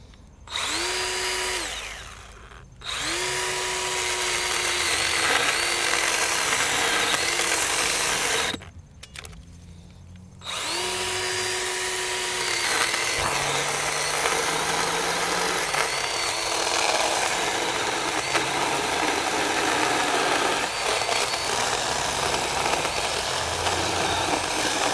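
A Milwaukee M12 Fuel Hatchet cordless mini chainsaw cuts through a round of wood, its high motor whine bogging down and stalling in two brief gaps before grinding on steadily through the cut.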